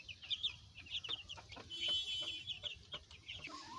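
Chickens on a small poultry farm give repeated short clucks and squawks, several birds overlapping at a moderate distance, fairly quiet overall.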